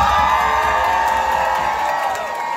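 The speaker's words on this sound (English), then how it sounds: "Round of applause for them." Crowd at a drag show cheering, whooping and shouting in a loud, sustained roar that holds steady throughout, close and dense with no single voice standing out.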